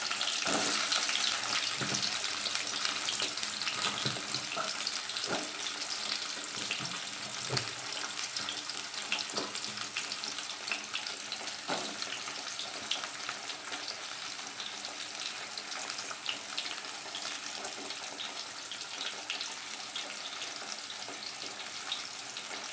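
Shallots and about twenty garlic cloves fry in hot oil with fenugreek for a peanut kara kuzhambu, giving a steady close-up sizzle and crackle with occasional clicks of stirring throughout.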